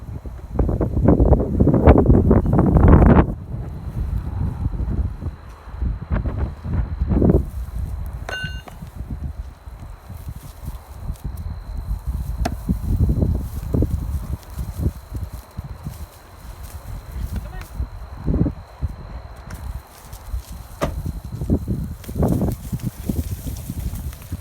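Gusty wind buffets the microphone outdoors, with loud rumbling blasts early on, then steadier rushing and occasional footsteps and rustling.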